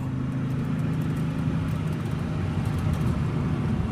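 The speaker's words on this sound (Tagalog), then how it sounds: "Tinuloy ko lamang ang pagdadrive ng mabagal" A car drives slowly along a road, its steady low engine rumble and road noise holding even and close throughout, with no speech.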